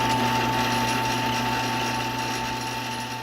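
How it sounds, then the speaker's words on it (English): Steady, loud mechanical whine of a drill boring an 8mm hole into a Moto Guzzi cafe racer motorcycle fuel tank part, a continuous grinding drone with a sustained tone and no pauses or voices. "once we drill that top hole out to get that 8mm thread through"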